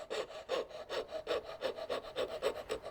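A hand saw rasps through wood in quick, even back-and-forth strokes, about a dozen close strokes with no voices.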